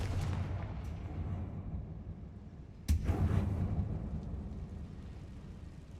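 A Confringo fire spell explodes in Hogwarts Legacy, a sudden loud boom that rolls into a rumbling burst over a steady low game background.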